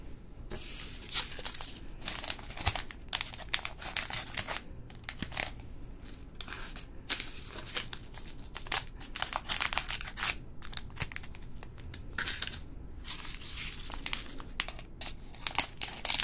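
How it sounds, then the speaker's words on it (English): Scissors snip through several things at once during an ASMR session of organizing diamond pieces, crisp close crinkling and cutting bursts that come in irregular clusters with brief pauses between, no talking. "To make things simple, I'm gonna cut all of them at once."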